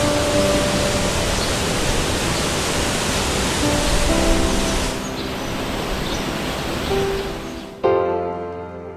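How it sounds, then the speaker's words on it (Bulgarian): The Belaparce waterfall in the Pyrenees roars loud and close in a dense, unbroken wash of falling water. Near the end the roar cuts back sharply and leaves a hollower rumble with a faint tonal hum. "Днес след много дълго време се озовахме на водопада Белапарце."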